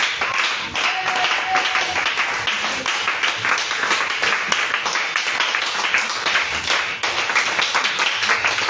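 A church congregation at a Sunday pre-service claps loudly in a fast, rhythmic beat, with scattered shouts and voices mixed into the dense clapping.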